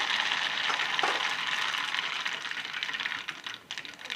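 Mustard seeds, cumin and other spices sizzle and crackle in a small pan of hot oil while tempering dudhi muthiya, a steady bright frying hiss heard close and alone, easing slightly toward the end.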